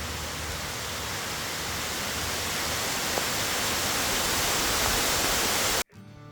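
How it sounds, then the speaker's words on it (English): Heavy rain pours down in a steady, dense roar that fills the whole clip, then cuts off abruptly near the end. "all of a sudden the skies opened up and started pouring"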